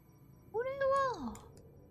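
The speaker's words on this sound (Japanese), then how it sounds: "チャトラ猫がおるぞー。" An orange tabby cat in the video game Doors: Paradox gives a single clear, close meow that rises, holds and then slides down, over a quiet background.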